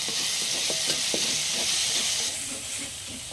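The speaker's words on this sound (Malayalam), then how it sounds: "തക്കാളി കുറച്ചുകൂടെ ഒന്ന് വഴണ്ട് വരാനുണ്ട്" Chopped tomatoes sauté for a jackfruit thoran, a steady bright sizzle in a hot pan with a few soft stirring scrapes underneath, close and continuous, easing slightly near the end.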